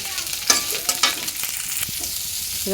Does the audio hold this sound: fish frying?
yes